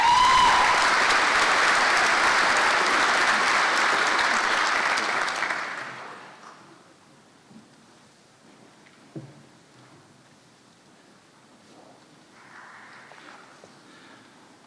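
Applause at a graduation ceremony, loud and sustained clapping from a large audience for about six seconds before fading out, leaving a quiet hall with faint shuffles and a few stray sounds.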